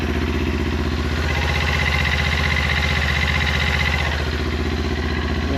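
A Kawasaki Ninja 400 motorcycle engine idles steadily up close after an oil change, with a loud, even low throb and light mechanical clatter running throughout, no talking.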